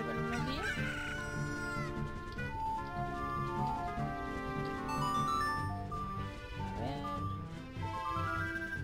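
A rooster crows repeatedly in the Legend of Zelda: Ocarina of Time video game on the N64, with harmonic crowing and clucking layered over steady game music, loud throughout.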